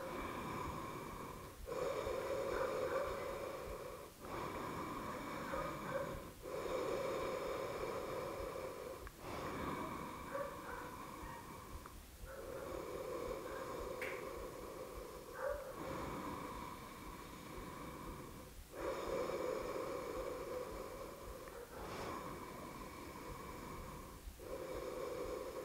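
Forceful breathing in the yoga lion pose: repeated long, heavy exhalations in a slow, regular rhythm, each separated by a brief pause, close and fairly loud.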